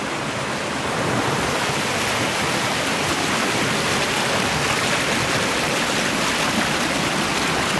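Water rushes at a hidden waterfall out in nature, a dense, loud, unbroken roar of falling water filling the whole span with no voices over it.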